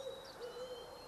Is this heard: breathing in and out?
no